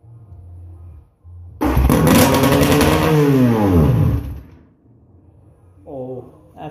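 Small kart engine with no muffler starting up after winter storage, bursting into a loud, raspy, close-up roar with a rising and falling pitch sweep for a few seconds, then cutting out, with a brief rev near the end.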